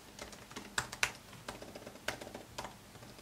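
Typing on the keyboard of a 2018 Apple MacBook Pro 15-inch, quiet, irregular key clicks close up, a few sharper taps standing out.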